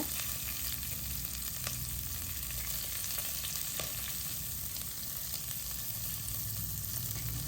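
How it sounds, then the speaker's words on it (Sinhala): Sprats (halmasso) frying in a pan with onions give a steady, loud sizzle, a dense unbroken crackle of hot oil running the whole time with no voices. "ඔන්න දැන් හාල් මැස්සන් ටික බැදිලායි තියෙන්නේ."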